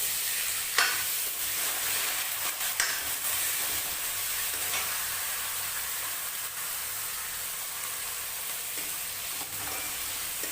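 Cumin seeds and finely chopped onions sizzle steadily in a hot pan in a home kitchen, a continuous frying hiss broken by a few scraping stirs, close and fairly quiet with no talking.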